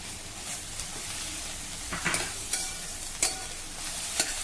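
Onion, garlic, bell pepper and tomato sautéing in a pan give a steady low sizzle, broken by a few sharp scraping knocks of the spatula stirring the vegetables.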